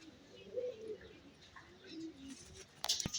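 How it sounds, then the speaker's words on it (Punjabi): Soft, low pigeon coos repeat a few times at close range, followed by a sharp clatter near the end. "ਜਿਹੜੀ ਇਹ ਬਿੰਦਰ ਵਾਲੇ ਕਬੂਤਰਾਂ ਚੋਂ ਆ"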